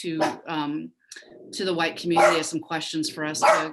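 A pet dog barks and yips in short bursts at home, woven among a continuous talking voice that dominates the scene.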